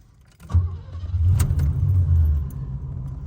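A 1986 Oldsmobile Cutlass 442 cranks and fires up, its engine catching with a loud rise and holding a rough, revving idle up close before easing off, with a brief jangle near the start.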